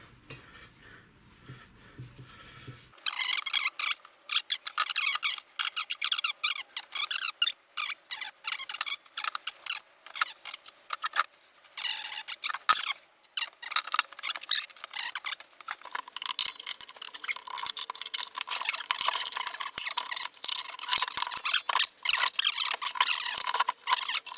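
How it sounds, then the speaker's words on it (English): Tyre levers scrape and click against the metal rim as a Honda Vision 110 scooter tyre is worked back onto its wheel, with busy, continuous close-up scratching and tapping and no talk. "Time for the tyre to go back on."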